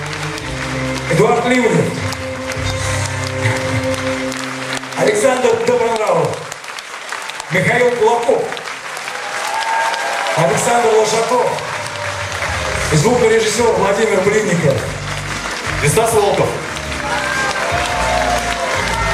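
A concert audience applauds steadily through the presentation of a band's album, and someone talks loudly over the continuous clapping.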